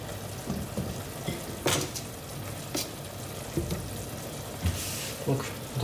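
Ingredients fry in a hot pan with rosemary and bay leaf for a lentil and white asparagus risotto, a steady dense sizzle with occasional louder crackles and light utensil clatter, close up with no voices.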